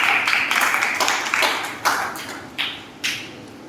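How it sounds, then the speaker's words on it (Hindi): An audience at a Jain monk's religious discourse bursts into loud applause, a dense wash of clapping that swells and ebbs in waves, with a few sharper claps standing out near the end. "जोरदार तालियां से।"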